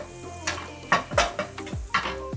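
Butter and a little olive oil sizzle in a pan, a steady hiss broken by several scraping stirs and soft clinks, close and moderately loud, with no talking.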